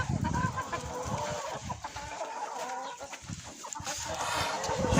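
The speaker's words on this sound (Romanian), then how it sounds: "Uitați câte am negre dintr-o găină singură." Backyard hens cluck and murmur continuously at close range, their overlapping calls forming a busy, moderately loud flock chatter with no talk.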